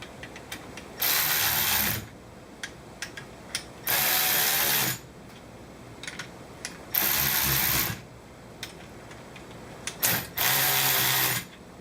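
A ratchet cranks in four separate loud bursts of rapid clicking, each about a second long with quiet pauses between, while tightening and compressing the rear shock on a 2013 Can-Am Spyder RT-S, heard close up.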